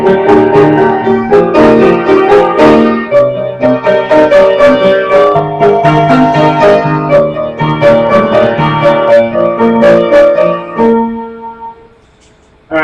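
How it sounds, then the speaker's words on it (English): Solo piano plays a section of a song, with steady sustained chords and a melodic line running continuously, loud and close, before fading into a brief quiet pause at the end. "on the piano it sounds like this"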